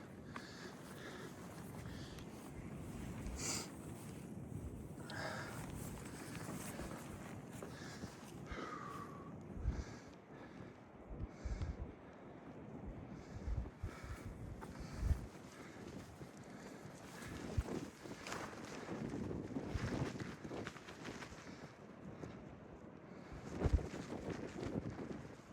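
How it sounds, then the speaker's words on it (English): Wind blows steadily at an Appalachian Trail campsite, a continuous low rushing with gusts and buffeting against the microphone. It is fairly faint and has no talk. "Comes the wind."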